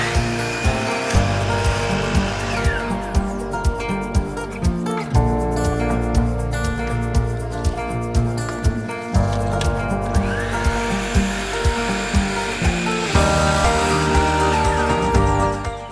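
A power saw cuts a wooden mantel shelf board to length, with a loud, sustained whine that dips and swells through repeated passes and steady rhythmic bumps, heard alone without talk.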